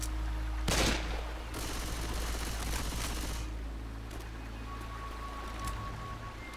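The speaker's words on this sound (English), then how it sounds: "Quit shooting me, Nick!" Rapid gunfire in Left 4 Dead 2 rattles in dense bursts with a loud blast near the start, layered over a steady rushing stream-like background from the Cold Stream map.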